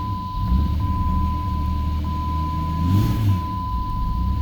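A 2003 Jeep Grand Cherokee 4.0 with a frozen idle air control valve, its engine running with the throttle held, a steady low rumble that swells briefly, while a continuous high electronic tone sounds over it.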